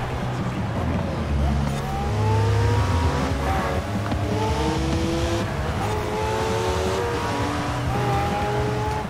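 Car driving in Forza Horizon 4, a steady engine drone with rising and falling revs through several gear changes, loud and continuous for the whole stretch, with someone talking briefly over it.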